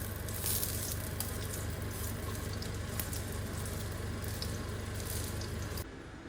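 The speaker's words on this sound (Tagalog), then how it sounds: "hindi siya kumakalat pag piniprito nyo" Homemade hotdogs fry in a pan with a steady, dense sizzle that runs loud and continuous for about six seconds before dropping off abruptly near the end.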